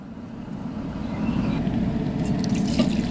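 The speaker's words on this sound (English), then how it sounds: "Add enough water to cover." Water runs into a pot with ramen noodles at a campground, a low rushing pour that grows fuller partway through, with a few brighter splashy drips near the end.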